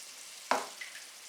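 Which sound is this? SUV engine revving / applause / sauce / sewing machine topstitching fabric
sauce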